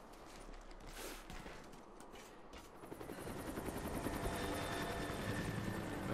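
A helicopter in the video game Rise of the Tomb Raider, set in a Russian area, whirs with rotor chop that grows louder as it approaches, with earlier scattered gunfire-like bursts and no talk.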